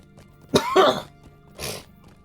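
Two separate coughs, close and fairly loud: a harsh double burst, then a shorter single cough after a brief pause.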